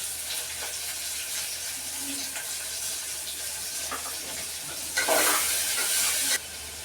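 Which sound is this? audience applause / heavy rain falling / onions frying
onions frying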